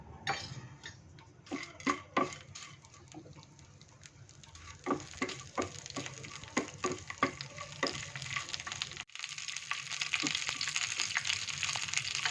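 Dried red chilies, cinnamon, curry leaves, cloves and peppercorns crackle in hot oil for a Kathiyawadi stuffed-chili kadhi tempering. Scattered sharp pops and utensil clicks give way to a denser, steady sizzle toward the end.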